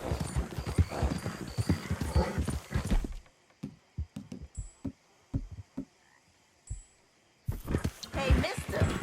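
Horse hooves clop in an uneven rhythm during a quieter stretch, framed by louder busy noise before and after, in the video game Red Dead Redemption 2.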